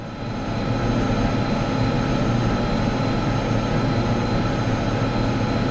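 A lone locomotive in Derail Valley hauls a heavy train, giving a loud, steady low engine drone with rumbling wheel and rail noise that holds without a break.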